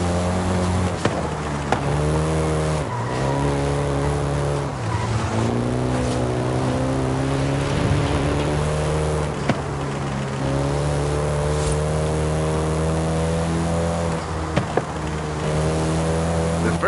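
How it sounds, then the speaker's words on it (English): A Volkswagen Golf GTI drives in the Forza video game, its engine droning steadily with a layered, buzzy tone and brief dips as it shifts gears. The loud engine sound runs continuously, with no talk. "including the Golf GTI you're driving right now"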